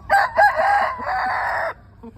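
A Thai fighting rooster, a breeding cock named Thong Dam, crows loudly and close in one long drawn-out call, followed by a couple of short soft clucks.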